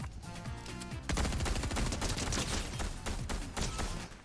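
Rapid gunfire in Fortnite, a dense continuous burst of shots that starts lighter and grows heavier, sustained for several seconds at moderate loudness.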